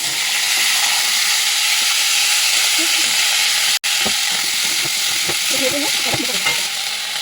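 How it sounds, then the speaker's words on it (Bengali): Vegetables frying in hot oil, a loud, continuous sizzle that briefly cuts out, then resumes with stirring and clattering close by. "তেল গরম হয়ে গেছে, সবজি দিয়ে দেবো"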